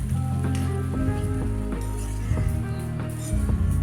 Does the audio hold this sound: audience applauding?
no